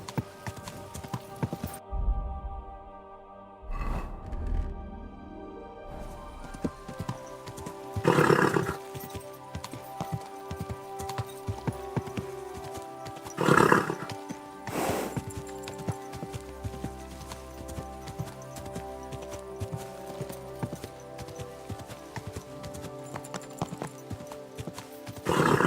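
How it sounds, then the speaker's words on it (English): Horse hooves clip-clopping steadily through a stretch of Kingdom Come: Deliverance 2 gameplay, with several loud neighs and whinnies rising over the hoofbeats and game ambience. "Easy, good horse."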